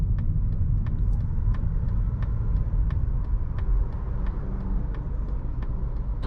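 A 2020 Mazda 3 Premium cruising on a road, heard from inside as a steady low engine and tire rumble with faint periodic ticking, even and continuous with no talking.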